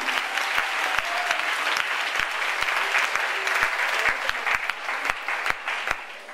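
A church congregation claps for the Lord Jesus, dense sustained applause with some sharp individual claps, loud and full throughout.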